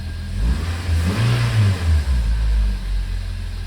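A Toyota Matrix engine that had shown an oil pressure warning runs steadily at a medium pitch, with a couple of light revs rising and falling over the idle, close up and with nobody talking.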